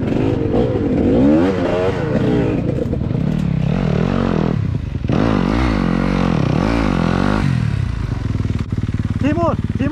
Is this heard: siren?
no